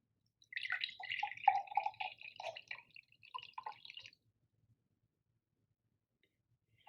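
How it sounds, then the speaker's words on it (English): Half a cup of pure unsweetened lime juice splashes and trickles into a beaker in a quick run of small drips and pours lasting a few seconds, then falls silent. "So ½ cup of just pure lime juice, unsweetened"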